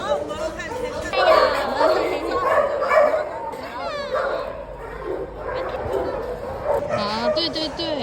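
Dogs at an animal shelter bark, yip and whimper in short bursts, close by and mixed with chattering voices of people talking over them.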